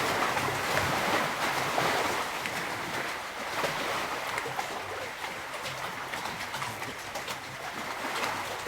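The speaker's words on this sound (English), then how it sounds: "Those are big waves." Big ocean waves surge and wash in a steady, broad roar during an outdoor yoga class. Faint bird calls sit in the background, and no one speaks.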